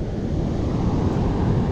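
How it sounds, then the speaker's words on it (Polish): Steady roar of surf and crashing sea waves, dense and continuous, with wind rumbling against the microphone throughout. "Morze szumi, hałasuje,"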